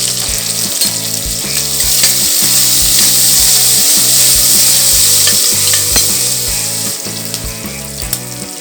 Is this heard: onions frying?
yes